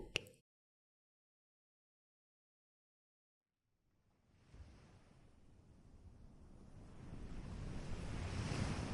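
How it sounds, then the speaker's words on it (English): Sea waves break below a windy cliff, gusting wind and surf rising from silence into a steady, growing wash that builds louder toward the end. "The wind cut across Dazai's face as he stared out at the sea, hair blowing into his face with every gust"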